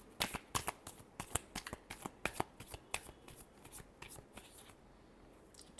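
Tarot cards are shuffled close up in a quick series of crisp riffling slaps and flutters, irregular bursts that thin out toward the end.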